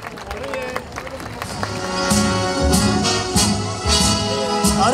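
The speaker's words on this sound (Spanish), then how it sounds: "¡Fuertes los aplausos!" Audience at a fashion week show breaks into applause, clapping swelling and growing louder over a few seconds amid crowd noise and music, with voices mixed in.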